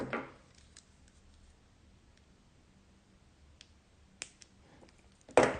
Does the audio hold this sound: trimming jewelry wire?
yes